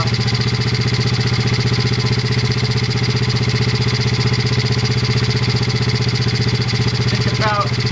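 A modded Honda pitbike engine idles close by with a steady, rapid low thrum throughout, its even putter unbroken apart from a faint brief chirp near the end.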